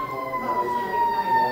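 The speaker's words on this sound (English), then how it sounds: "Big siren" A loud, steady siren wails at a theatre's opening night, sustained tones holding close and strong with no talk over it.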